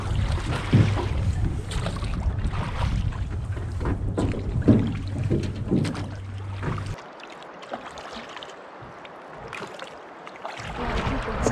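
A fishing boat runs downriver on the Cowlitz River with a low, steady motor drone under water rush and wind buffeting, the engine note dropping away partway through and wind noise continuing.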